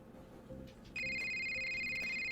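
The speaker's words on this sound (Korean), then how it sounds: "전화벨 소리에 깨어났다" A telephone begins ringing with a steady, loud electronic trill that cuts in abruptly after a quiet, faintly noisy room, sounding close and continuous.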